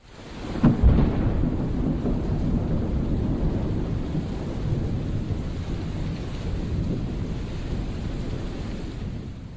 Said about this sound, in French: Donc cet orage est arrivé donc en même temps que le front froid.